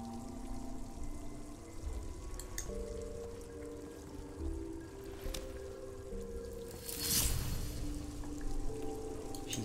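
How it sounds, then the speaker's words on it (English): A waterfall in the video game Silence rushes in a steady wash under soft layered ambient music, with a brief louder splash of water near the end. "I take the waterfall as a good omen."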